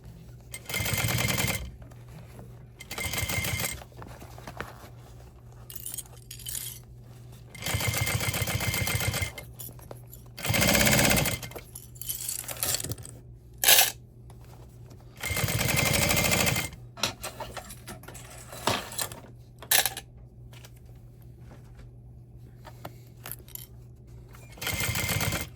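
A sewing machine stitches an uninterfaced crossbody bag in repeated bursts of a few seconds each, separated by quiet pauses filled with soft handling noises and a steady low hum.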